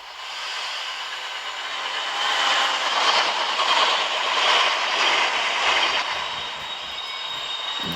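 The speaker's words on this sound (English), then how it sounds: "There's the class 108" A class 108 train in a video game rolls past a station platform, a steady broadband rumble and hiss that swells slightly mid-pass and then eases, heard alone without talk.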